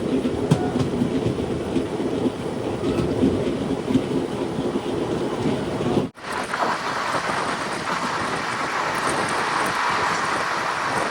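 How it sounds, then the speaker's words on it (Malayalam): Passenger train rolling on rails toward Kannur, a loud continuous rumble with rattling carriage noise throughout and a brief dip midway before the steady roar resumes. "ട്രെയിനിപ്പോൾ കണ്ണൂരിലേക്ക് എത്തുകയാണ്"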